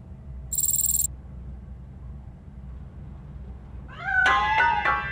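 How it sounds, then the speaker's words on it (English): Cat in the RoboCop: Rogue City video game gives a couple of short, pitched meows near the end, following a brief bright electronic beep over a low game ambience hum. "That cat must be hiding inside."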